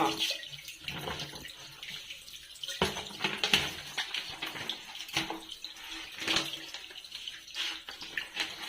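Water poured over plastic kitchen shelf liner splashes and trickles in uneven bursts, with a few sharper spatters, close and moderately loud with no talking.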